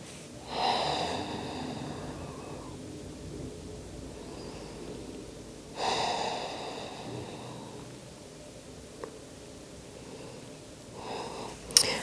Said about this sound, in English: Three more breaths here.